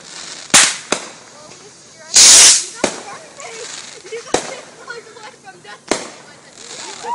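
Fireworks rockets launch and burst outdoors: a loud hissing whoosh of a rocket taking off among several sharp bangs and crackling pops, with people talking in between.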